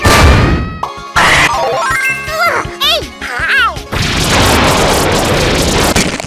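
Chirpy, sweeping sound effects from Kirby's Return to Dream Land give way to a loud, sustained, crackling bomb explosion that roars on until the end.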